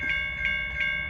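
Southbound train approaching in the New Haven, Michigan area, a steady rumble with a sustained tonal whine and faint pulsing clatter, heard from nearby with no talk.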